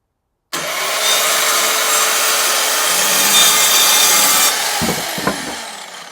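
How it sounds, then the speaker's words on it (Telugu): Power saw cutting wooden roof boarding during an outhouse build, starting abruptly with a loud sustained whining cut for about four seconds, then winding down with a few knocks and clatters of wood. "ఒక వుడ్ కటింగ్ ఎట్లా వర్కౌట్ అవుతుందో చూడడానికి అయితే రెడీగా ఉన్నాము"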